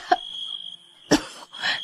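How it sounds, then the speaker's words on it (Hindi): Two girls in a Hindi cartoon cough in short bursts: one sharp cough, a pause, then a louder cough followed by a rougher, drawn-out one, close and clear with no talk. "वो दोनों खांसने लगी।"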